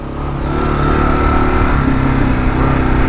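A Kawasaki KLR motorcycle engine idles and runs on steadily after the throttle is cut, a close, even mid-pitched hum with a constant loudness and no talking.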